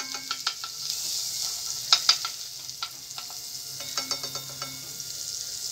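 A spoonful of butter sizzling in a hot pan as the base for a red sauce, a close steady hiss punctuated by repeated scraping and stirring taps.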